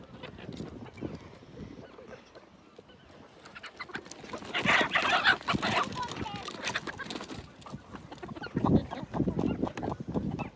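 Chickens at a rural herders' camp cluck and squawk intermittently at close range, growing busier in the second half, while people talk over them.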